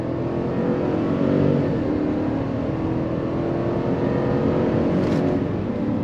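GMC Yukon Denali Ultimate V8 pulling away from a stop on a damp road, a steady, loud, deep engine drone building under throttle from inside the cabin.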